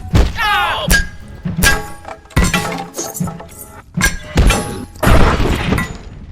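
Objects in the video game Abiotic Factor break apart in a rapid series of loud thunks, clinks and glassy shattering crashes, with short pauses between the hits.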